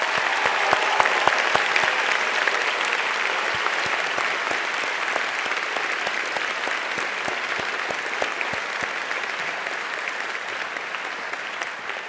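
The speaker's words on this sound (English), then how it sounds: "Let's give them a round of applause," Sustained applause fills a high school commencement ceremony for the class of 2014, a dense, even clatter of many hands clapping throughout with no pause.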